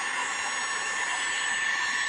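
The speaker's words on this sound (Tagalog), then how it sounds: "Gamit ning atong electric blower, heater blower unya pag-uga ato na tong ibalik tong iyang gasket." An electric heater blower runs steadily while drying a gasket from a Toyota Deluxe car radiator, a constant close airy whoosh with a faint high whine and no talk.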